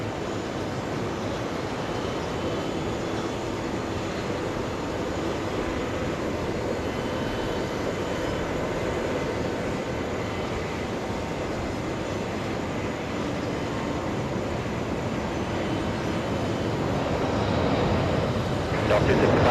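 A jet airliner landing at JFK airport on a hot day gives off a steady, broad roar that holds for the whole stretch and swells louder near the end as the aircraft draws closer.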